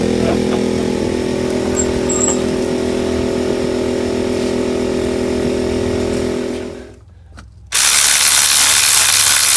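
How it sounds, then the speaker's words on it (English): A battery-powered ratchet works on a Sprinter engine during an engine swap, giving a steady loud mechanical whir that fades out, followed by a short silence and then a sharp burst of noise. "this was a recommendation from a few of our viewers to get a batterized ratchet"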